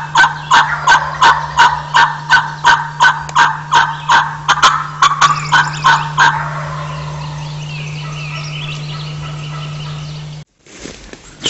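A wild turkey gobbling in New England spring woods, a rapid run of about twenty loud, close gobble pulses for six seconds, trailing off into a quieter outdoor hum.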